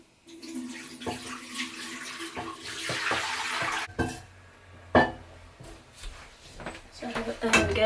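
Water runs from a tap in bursts, splashing and gurgling into a basin, with clattering and handling noises between pours.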